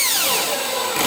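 A slip-clutch driver set to minimum torque drives a screw into a Hermle 1050-020 clock movement, giving a brief, steady mechanical whir with sweeping tones that cuts off near the end.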